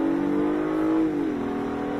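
An Acura TLX A-Spec SH-AWD accelerates at night, heard from inside the cabin as a steady engine drone whose pitch drops as the transmission shifts up one gear.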